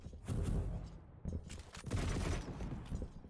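Rapid repeated rocket launcher fire and explosions from a competitive Quake match, dense booming blasts in quick succession, loud and close with no voices.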